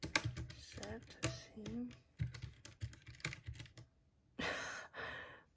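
Rapid clacky keystrokes on bare switches, bursts of typing close by with brief pauses, and a person speaking briefly between them.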